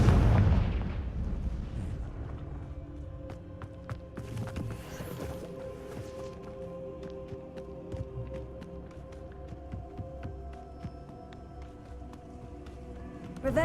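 A Confringo fire spell explodes in Hogwarts Legacy, one heavy, close blast at the start that fades into a long rumbling decay scattered with faint crackles and ticks.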